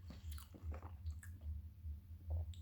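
Slimy dumplings being chewed close to the mouth, soft wet squishing bites repeating in a slow, steady rhythm, quiet and intimate with no talking.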